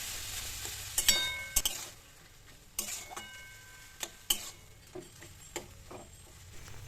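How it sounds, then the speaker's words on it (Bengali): Boiled tomatoes are stirred into a spice tempering for tomato chutney, with a low, faint sizzle under sharp, intermittent clinks and scrapes of a spoon against the pan. "কিছুক্ষণ টমেটোটাকে আমি এভাবে কষিয়ে নিচ্ছি।"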